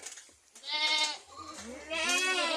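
Goats on a small farm bleating, two long quavering calls close by, loud and clear with a short pause between them.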